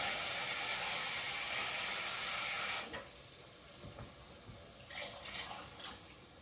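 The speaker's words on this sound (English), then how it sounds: "Throw in enough water to cover the rice." Water pours steadily into a pot of rice for arroz con gandules, a close, loud rushing stream that stops abruptly after about three seconds, followed by faint clinks and quiet kitchen shuffling.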